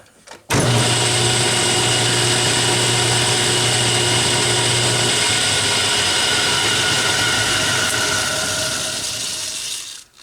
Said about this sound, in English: Gonna deburr it.